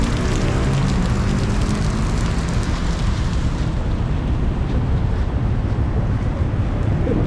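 Heavy rain pours down on a street in Chow Kit, a steady, dense hiss that stays loud and constant throughout, with faint traffic or engine rumble mixed underneath.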